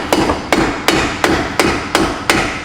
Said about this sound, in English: I'm using this piece of wood and hitting it with a hammer